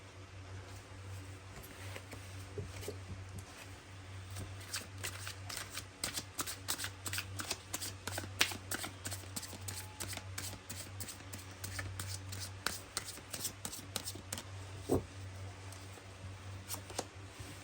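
A deck of tarot cards is shuffled by hand, producing a long run of crisp, rapid card flicks and riffles close up, irregular but continuous, with no talking.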